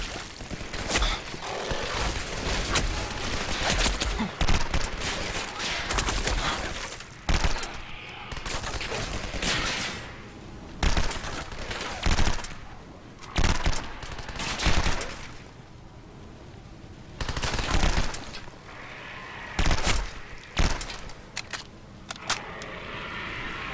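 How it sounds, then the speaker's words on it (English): Video game gunfire comes in repeated bursts and single shots throughout, with sharp loud cracks separated by short gaps over a dense background of game sound. "I know someone was shooting at me."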